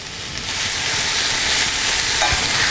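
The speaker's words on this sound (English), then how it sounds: "I just want to coat the greens in the ghee and the shallots" Greens and shallots cook in ghee, a loud, close, continuous sizzle and frying hiss that swells slightly and holds steady, with faint stirring and no talking.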